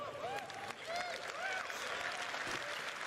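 An audience at Citizen Con claps and cheers, a dense, sustained burst of applause with whoops and high shouts rising through it and people talking underneath.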